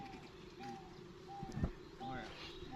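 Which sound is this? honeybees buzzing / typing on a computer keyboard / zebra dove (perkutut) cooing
zebra dove (perkutut) cooing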